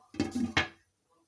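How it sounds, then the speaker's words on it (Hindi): A lid is set on a cooking pot of keema with kachnar, giving a few quick metallic clanks and scrapes, the last one sharpest, then quiet. "चलिए इसको भी अब मैं कवर करके रख देती हूँ 5 मिनट के लिए"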